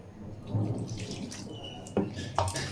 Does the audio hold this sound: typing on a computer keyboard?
no